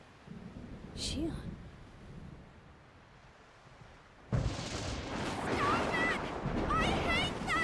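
Thunder in the video game Xenosaga Episode 1 breaks in with a sudden loud, deep crash and keeps rumbling, while a voice speaks over the storm.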